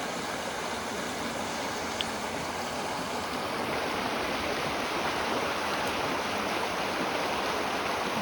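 A river stream flows steadily outdoors, a soft continuous wash of water that stays even and moderately quiet throughout with no voices.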